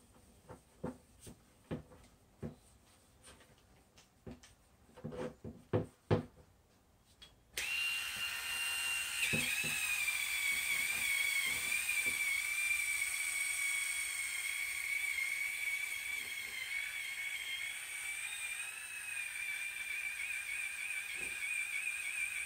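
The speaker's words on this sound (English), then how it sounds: "I'm assuming this little Dremel's up to the task." A small Dremel rotary tool polishes a 2nd-gen Ram truck tail light with scratch remover, starting after some handling knocks and then running as a steady, close, high whine for about fifteen seconds.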